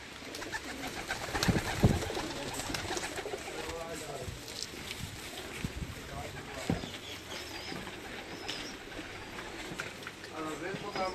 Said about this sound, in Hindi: ये जी जोड़ों वाले कबूतर हैं जी उसका